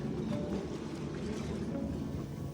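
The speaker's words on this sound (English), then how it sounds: "You might hear some lapping of some water" Water laps gently at a quiet waterside spot in Tokyo, a steady low wash with a light wind noise and no talking.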